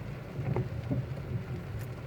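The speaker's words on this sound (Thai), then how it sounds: "นี่คือสภาพของเมืองกรุงครับวันนี้พายุเข้า" Rain falls in Bangkok during a storm as a faint, steady patter with a low background rumble, brief and without any voices.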